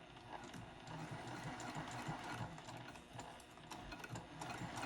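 A sewing machine stitches a lined box-bottom zipper pouch, running steadily along the presser foot edge with a continuous rapid mechanical whir and ticking that rises and dips slightly in speed.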